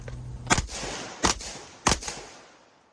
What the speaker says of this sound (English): this is the 16-inch rifle with the Dead Air muzzle brake on it